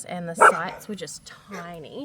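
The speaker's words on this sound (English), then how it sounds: "my dog just barked once." A pet dog barks once, a short sharp yelp at a powered campsite in the Northern Territory outback, close by and partly under someone talking.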